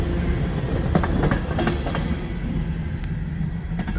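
A CSX freight train locomotive moves near a railroad crossing in Resaca, Georgia, with a loud, steady rumble and clattering wheels, and some rattling clanks over the continuous roar.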